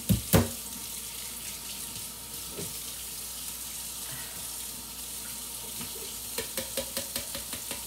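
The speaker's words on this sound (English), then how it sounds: "Let me rinse this container." A container that held canned black beans is rinsed under a running kitchen tap, a steady close water rush with a couple of knocks at the start and a quick series of taps and splashes near the end.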